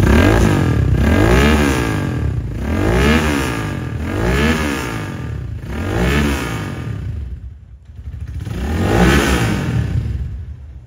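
The engine of a Kawasaki Ninja 250cc replica motorcycle with a quiet stock exhaust is revved repeatedly, rising and falling in about five loud, close throttle blips before a short pause and one more rev.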